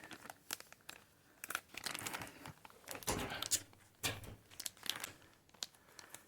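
A parcel of ordered coins, sent through Ukrposhta, is unpacked alone at close range, with rapid bursts of crinkling and crumpling packaging, occasional tearing, and a brief crunch.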